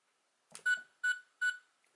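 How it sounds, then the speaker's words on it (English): Three short, bright electronic beeps in an even rhythm from a toy Fourteenth Doctor's sonic screwdriver, close and clear, after a faint click. "So there we get 3 beeps"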